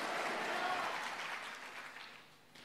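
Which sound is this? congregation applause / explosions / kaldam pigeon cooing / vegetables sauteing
congregation applause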